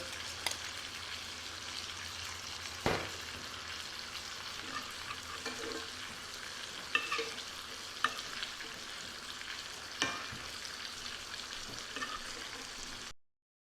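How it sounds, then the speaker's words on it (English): A seared, smoked tri-tip steak sizzles steadily as melted butter is spooned over it, giving a constant quiet frying hiss with occasional louder pops and clinks of the spoon, no talking, ending abruptly. "Gonna keep basting it with the butter."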